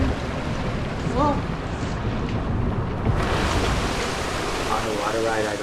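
Water ride rushing and splashing through water in the game Planet Coaster, a broad continuous wash of spray and churning that surges midway, with someone talking over it.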